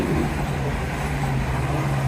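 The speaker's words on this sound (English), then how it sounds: "At least you've got one nice happy train. Nice and loud, nice and clear." A train passing at a railway viewpoint, a loud steady rumble and roar filling the scene, close by with no talk.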